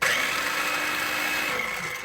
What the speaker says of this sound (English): I just stick mine in my handy chopper because they need to be beaten